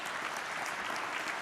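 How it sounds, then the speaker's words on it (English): A conference audience at a main stage event breaks into steady applause, a dense wash of clapping heard alone for a brief moment. "Could we have a round of applause for Daryl's position?"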